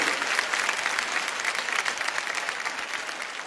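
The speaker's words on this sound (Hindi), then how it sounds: "एक बार जोरदार तालियां" A Hindi talk-show audience breaks into loud, continuous applause for a guest, an even wash of clapping that fills the whole moment with no speech.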